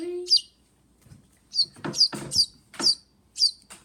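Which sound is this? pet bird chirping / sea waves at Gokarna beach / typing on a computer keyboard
pet bird chirping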